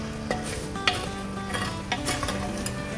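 Minced meat keema with whole spices browning in a pan, a steady low sizzle with scattered utensil scrapes and light clinks from stirring, close and without talk.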